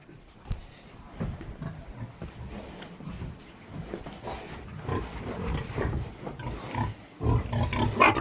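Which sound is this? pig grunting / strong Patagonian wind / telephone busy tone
pig grunting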